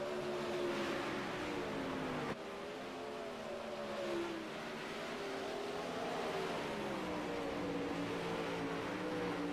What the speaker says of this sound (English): let's listen to these awesome cars